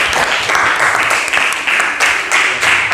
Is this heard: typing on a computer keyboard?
no